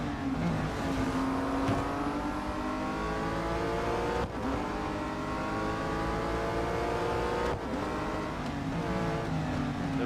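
Racing car engines from the mobile racing game Real Racing 3 roar continuously, pitch rising and falling through gear changes as several cars jostle for position, loud and sustained with brief dips between shifts.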